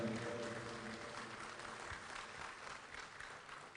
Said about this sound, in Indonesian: berikan tepuk tangan kepada Bapak Susilo Bambang Yudhoyono